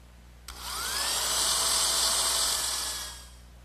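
A power drill pre-drills holes in the saddle pieces of a wooden rocking horse, spinning up into a steady whirring whine for about two and a half seconds before winding down.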